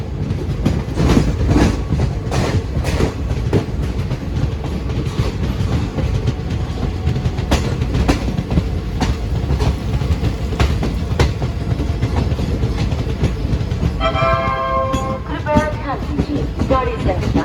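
A train rumbles into Narsinghpur railway station with rhythmic clickety-clack of wheels on rails, loud and close, as it rolls in; a brief squeal rises near the end.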